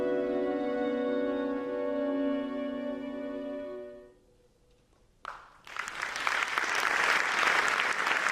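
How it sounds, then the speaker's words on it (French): An audience at a dance show bursts into dense, sustained applause after a held musical chord fades to a brief silence; the clapping is loud and full, close to the listener. "La soirée s'est terminée sous les applaudissements du public"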